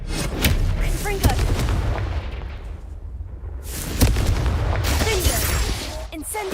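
The Confringo fire-blast spell in Hogwarts Legacy gives repeated booming explosions and bursts in a loud, continuous stretch of spellcasting combat, with a voice shouting over it.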